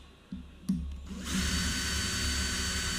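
A power drill bores a hole into a fishing rod tube for a homemade sabiki rod: a couple of short clicks and starts, then the motor spins up into a steady, loud, close whine.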